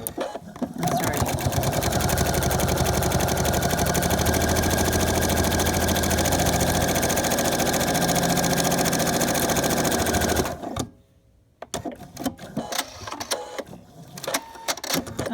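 A sewing machine runs steadily for about ten seconds while top stitching leather card slots, a close, continuous mechanical whir that then stops, leaving faint handling noises.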